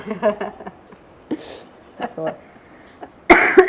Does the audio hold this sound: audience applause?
no